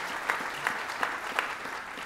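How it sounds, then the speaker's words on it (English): A crowd applauds at a state senator's swearing-in ceremony, a steady dense patter of clapping held at one level with a few sharper bursts standing out. "let's give him a round of applause for that bridge"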